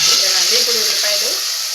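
Onions fry in hot oil for a pomfret curry with a loud, close, steady sizzle, while a voice talks briefly over it.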